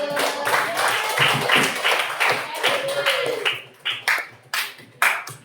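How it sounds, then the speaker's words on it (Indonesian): Classroom applause from a group of students, a dense burst of clapping that thins out into a few scattered, separate claps near the end. "Oke, aplaus dulu."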